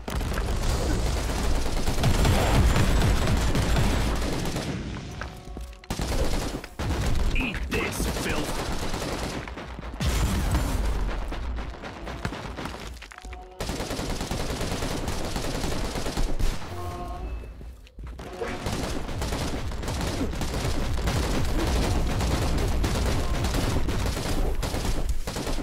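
Heavy turret gunfire in Warhammer 40,000: Inquisitor - Martyr, sustained loud bursts of rapid shots and booms with brief gaps, mixed with game effects and faint voices.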